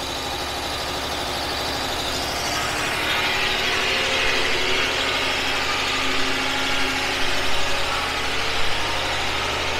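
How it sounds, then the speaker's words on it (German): A generator driven by an ordinary engine in a 15 kW wood gasifier power plant runs at a steady idle, a constant low mechanical drone with a rough, vibrating texture, close by and uninterrupted. "Hier ist der Generator, in dem Fall ein normaler Motor."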